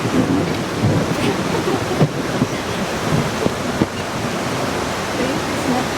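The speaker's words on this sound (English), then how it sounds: "we're about to approach the rapids" Rushing river rapids roar through a rocky chasm, a loud, steady broadband wash of churning water with occasional splashes and wind buffeting, heard close from a tour boat.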